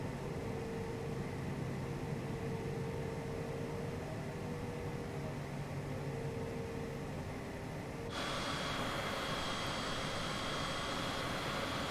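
Steady roar of a Citation CJ4 business jet inside the cabin while departing on runway 31, a dense constant engine and airflow rush that shifts to a brighter, higher-pitched hiss for the last few seconds.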